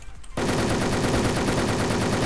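Enemy gunfire in the online shooter Wolfteam: after a brief quiet moment, a loud, sustained rapid-fire burst rattles on without pause.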